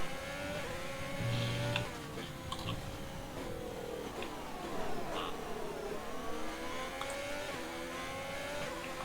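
A Formula 1 car engine in F1 2020 screams through high-pitched revs, rising and dropping with gear shifts as it races on track, loud and continuous with no talk.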